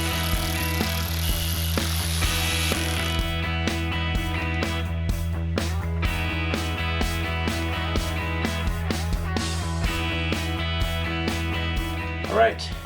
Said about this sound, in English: Torque the valve cover screws to 95 inch-pounds.